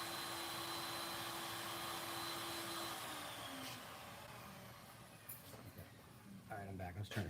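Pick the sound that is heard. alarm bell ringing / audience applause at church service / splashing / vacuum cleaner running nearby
vacuum cleaner running nearby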